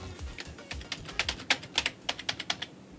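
Someone types on a computer keyboard while setting up an old Dell-powered storage build, with quiet irregular clacking keystrokes coming in short bursts, close to the microphone.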